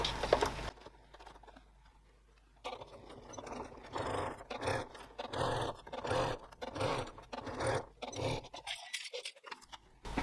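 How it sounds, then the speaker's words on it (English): Domestic sewing machine with a blind hemming foot stitching fabric in bursts, rapid mechanical whirring runs broken by short pauses, close and fairly quiet, with no talk. "I've still got my blind hemming foot on the machine, so that'll do nicely"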